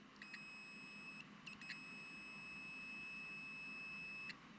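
Continuity beeps from a digital multimeter while wiring is checked on a Wheel Horse 520 garden tractor: a few short tones, then one long steady beep of about three seconds over a low background hum.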